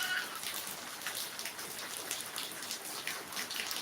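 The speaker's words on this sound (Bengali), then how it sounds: "এখনও বৃষ্টি হচ্ছে এই যে বৃষ্টি হচ্ছে" Steady, soft rain patters evenly on surfaces outdoors, a continuous hiss of drops with no speech.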